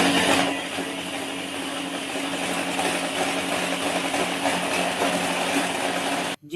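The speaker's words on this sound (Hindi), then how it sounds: "इसे हम ग्राइंड कर लेंगे अच्छे तरीके से" An electric grinder runs continuously while grinding rice for kheer. The whir is loud, steady and dense, with no breaks until it cuts off abruptly at the end.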